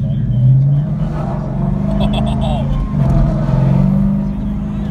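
2015 Ford Mustang GT with a Ford Racing exhaust, loud and close, its engine rumbling and revving in deep bursts while tires try to break loose, with someone talking over it.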